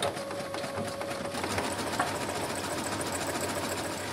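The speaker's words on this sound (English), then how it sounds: "Right now I'm just zigzag stitching right along this raw edge to keep this from fraying." Sewing machine zigzag stitching along the raw edge of a grill apron pocket, a close, fast, steady mechanical whirring rattle with a short squeak early on, running without pause.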